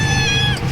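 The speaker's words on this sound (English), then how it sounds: "say hello to his cute little kitten" A small kitten at a neighbourhood shop gives one short, high meow, close and clear over a low background hum.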